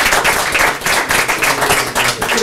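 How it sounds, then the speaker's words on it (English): A round of applause at a city council meeting honoring a community member, with clear, fairly close clapping from a modest group, steady and lively for a couple of seconds. "Let's give a little round of applause."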